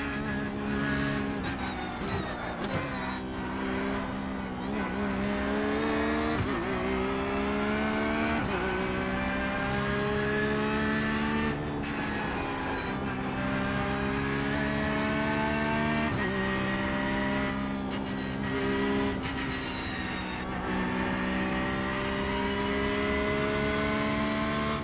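A Porsche race car engine roars in a NASCAR video game on the Michigan track, loud and close, climbing in pitch and dropping with each gear change over and over, alone without talk.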